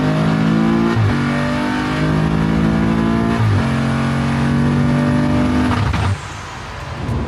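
A big-turbo BMW F30 340i pulls hard down a street run, its engine note loud and close as it climbs through the gears with brief dips at each shift before the revs drop away near the end.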